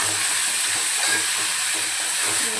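Ginger garlic paste fries in hot oil for mutton paya, a loud, dense, continuous sizzling hiss close up, with faint low stirring thumps beneath.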